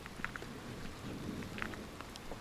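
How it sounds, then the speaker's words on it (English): Steady rain falls on an outdoor coastal walk between North Head and Manly in Sydney, a faint, even hiss with scattered soft drop patters throughout. "So the rain is always the same here, dropping."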